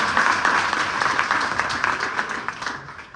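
An audience at a college event in Ciudad Obregón applauds in a dense, steady burst that slowly fades toward the end.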